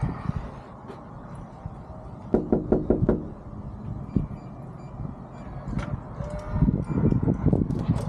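Knuckles rap on a house door in a quick run of four or five sharp knocks, followed by a single knock, over steady outdoor background noise with some rustling.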